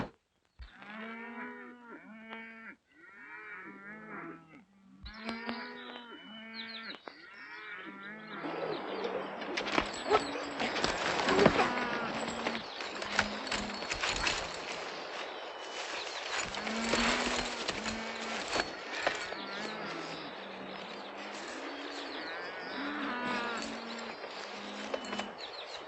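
A herd of cattle moos repeatedly at close range on a western cattle drive, with overlapping calls building into a dense, continuous lowing, joined by shouting voices and faint bird calls.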